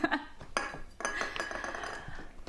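Dishes and cutlery clink and clatter as a kitchen is cleaned up between cooking, a run of close, irregular knocks and chinks with no talking.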